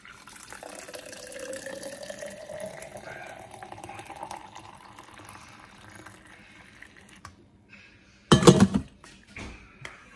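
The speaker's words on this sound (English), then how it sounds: "Let's get this poured before Rachel finishes getting dressed." Liquid pours steadily into a container for several seconds in a quiet kitchen, a soft continuous trickle that fades out, followed by a brief louder clatter near the end.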